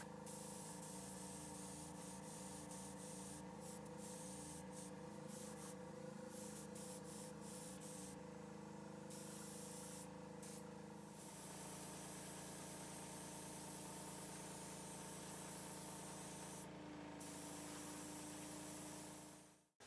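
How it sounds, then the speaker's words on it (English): An airbrush hisses steadily while spraying Alclad Chrome paint over gloss black on a DT-12 heavy blaster pistol prop, with a compressor hum underneath and short bursts of spray. "I applied Alclad Chrome with an airbrush to simulate metal."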